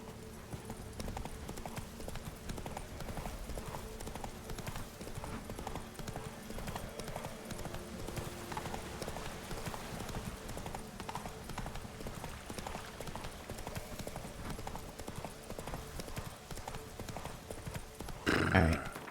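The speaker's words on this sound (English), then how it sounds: "Run, Roach." Horse hooves clip-clop at a steady galloping rhythm in The Witcher 3 video game, continuous and fairly close, with game music and a voice talking over it throughout.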